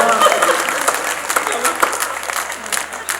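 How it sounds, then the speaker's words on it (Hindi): Clapping from an audience at a Hindi poetry gathering (kavi sammelan), a short burst of scattered applause with voices mixed in. "समझदार लोग तालियां बजा दें।"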